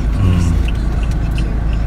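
Cars arrive at a venue with a deep, close engine rumble. Scattered voices talk over the traffic noise.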